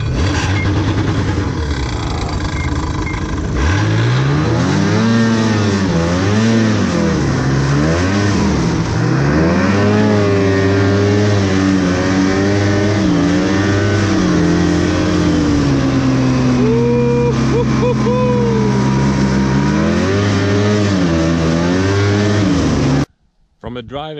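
A snowmobile engine drives through fresh, untouched snow, a loud close drone that rises and falls in pitch as it revs and eases off for about twenty seconds before cutting out abruptly, with someone talking over it.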